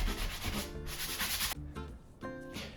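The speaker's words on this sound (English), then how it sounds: "So I kind of ripped off any extra rough bits and then sanded them down." Rough drywall patches being sanded down by hand, a steady close scraping rub with brief pauses, no voices.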